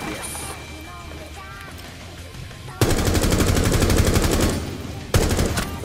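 Automatic gunfire in the Rainbow Six Siege video game, bursts of rapid shots starting midway and returning near the end, loud and close over quieter game ambience.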